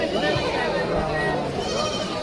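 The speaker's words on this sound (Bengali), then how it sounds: "দেখেন অনেক সুন্দর দেশি ছাগল।" Native goats bleat among a busy crowd at a village goat and sheep market in Mirzapur, Tangail, with steady chatter and people talking all around.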